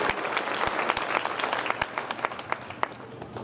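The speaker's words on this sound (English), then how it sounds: "Give yourselves a round of applause" Members of the Downers Grove North Trojan Marching Band applaud themselves at the 2013 BandORama, a fairly soft but continuous spread of many hands clapping, with a few sharper claps standing out.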